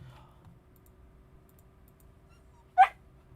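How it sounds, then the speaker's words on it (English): A dog gives a single short, sharp bark partway through, fairly close, against a quiet room with a faint low hum and soft clicks. "This dog's got me all flustered right now."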